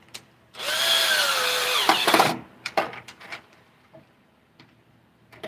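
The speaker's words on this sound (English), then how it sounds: "I got my hyper tough drill to tighten up this hardware" A Hyper Tough power drill whirs for about one and a half seconds, driving and tightening bolts on skateboard hardware. It ends in a few clicks and short ratcheting bursts, and then light handling clatter follows.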